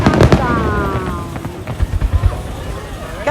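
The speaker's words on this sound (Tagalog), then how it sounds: "Our fireworks for today." Fireworks burst at the Kameoka summer festival, a run of sharp booms and crackles that starts loud and gives way to scattered thumps, with a crowd's voices and talk mixed in throughout.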